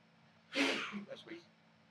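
A single sneeze bursts out, loud and breathy, followed by a few short trailing snorts and sniffs; a low hum sits underneath.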